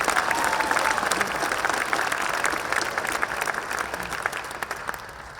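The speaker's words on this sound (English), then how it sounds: "So join me in a round of applause for Jennifer." Guests at a celebration welcoming a new Razorback head coach give Jennifer a round of applause. The soft, even clapping from a crowd holds steady, then tapers off near the end.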